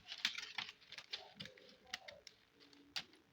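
Quiet, rapid snipping of scissors cutting out a paper half-scale bodice pattern, a series of close, light crisp cuts in an uneven rhythm.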